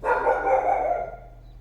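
An angry female dog barks close by in a short burst of two or three harsh, overlapping barks that trail off, loud and alone.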